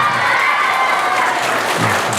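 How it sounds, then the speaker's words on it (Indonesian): Steady applause from an audience at a gathering with Muslim convert and orphan students, dense and continuous with no talking over it. "Tepuk tangan dulu dong."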